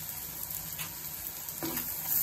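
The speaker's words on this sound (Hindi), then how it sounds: "प्याज फ्राई हो रहा है" Onions fry with a little salt in a pan, giving a faint, steady sizzle close by with brief crackles and no talking.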